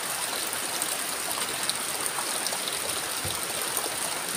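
Floodwater rushing after heavy rain from Typhoon Kristine, a steady broadband roar of flowing water like a swollen stream, close and continuous for the whole stretch with no voices over it.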